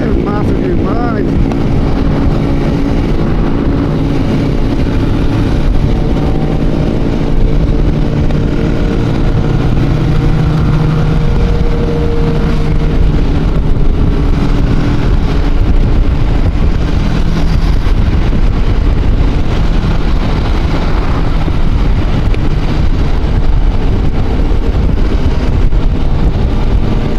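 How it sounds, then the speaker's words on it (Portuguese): Motorcycle exhausts roar steadily during a group ride of over 400 bikes from Goiânia to Itauçu, a dense, close engine drone with wind rush, and someone talks over it. "É doido, barulho de escapamento."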